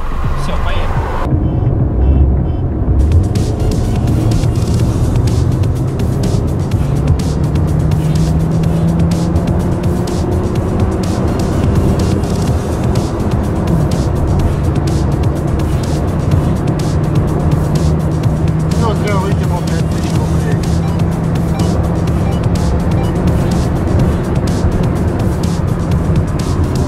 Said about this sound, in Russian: На третий мы ускоряемся. До пола прям прожимаем.